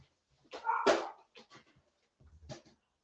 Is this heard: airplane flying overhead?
no